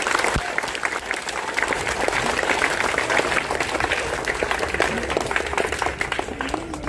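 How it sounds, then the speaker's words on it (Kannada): Loud, sustained applause from a school audience at an Independence Day event, dense clapping filling the whole stretch with a faint voice mixed in beneath. "ಜೋರಾದ ಚಪ್ಪಾಳೆ ಬಗ್ಗೆ."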